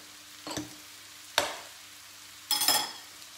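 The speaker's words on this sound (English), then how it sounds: "So we need to saute this till it's light brown in color." Ginger and green chilies are stirred in a pan, giving three separate scraping, sizzling bursts against a quiet background.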